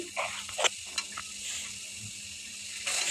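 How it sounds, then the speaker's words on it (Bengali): Spice paste being stir-fried in a pan for a tilapia and bean-seed curry, a close, steady sizzle broken by scraping stirs and a louder burst near the end. "অনেকক্ষণ ধরে মশলা কষাতে হবে"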